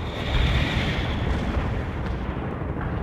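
Artillery barrage in the game World in Conflict, a dense continuous rumble of distant blasts and booms, loud and sustained without pause.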